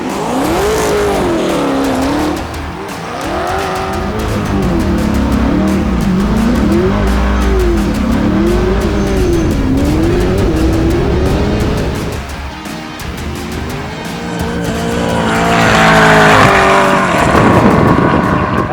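A 1000 hp BMW M3 E92 drift car with a 7.0 V8 slides during a quarter-mile race on asphalt. The engine revs loud and close in rising and falling sweeps, with tire squeal and a final burst of acceleration.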